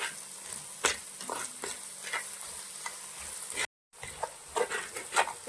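Ingredients for a Kuttanad-style toddy-shop goat head curry sauté in a pan with a soft, steady sizzle, punctuated by scraping stirs and spatula knocks, moderately quiet with a brief dropout partway through and no talk.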